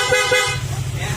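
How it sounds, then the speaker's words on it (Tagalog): A car horn honks in two short blasts at the start, followed by a steady low engine hum close by. "Okay, loud horn."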